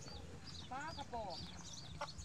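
Caged chickens at a roadside market cluck in short, wavering calls at close range while someone talks over them.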